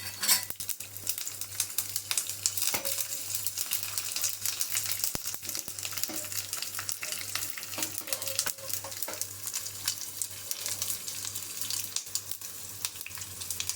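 Mustard seeds and a little green chilli crackle and spit in hot oil for a Karnataka banana stem salad seasoning, a steady dense hiss with scattered sharp pops and a low hum beneath, no talking.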